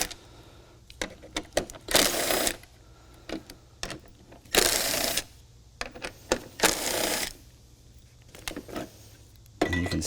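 Bolts on the factory fog light of a Jeep JL front bumper being loosened and removed, heard as bursts of ratcheting and metallic clicks separated by short quiet gaps, close up.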